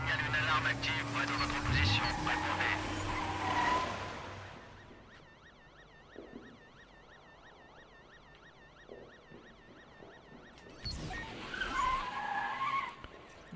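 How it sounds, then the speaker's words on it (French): Car being rammed in Watch Dogs 2, with loud skidding and crashing engine noise under talk in the first seconds, then quieter game ambience with a siren-like warble, and another burst of impact and talk near the end. "Maintenant, on va bourrer ce véhicule."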